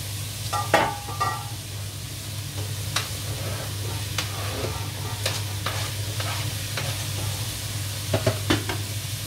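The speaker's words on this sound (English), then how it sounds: "Onions Into the pot." Four chopped onions for a Samoan beef stew fry in a pot, giving a steady close sizzle with scattered sharp crackles and a few stirring scrapes over a low constant hum.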